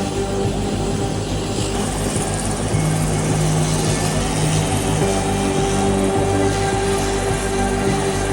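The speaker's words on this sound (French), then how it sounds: "Tu t'assois, l'avion décolle, je suis dans l'avion" Skydiving jump plane taking off, seen from inside the cabin, with a loud, continuous propeller and engine drone that rises slightly partway through.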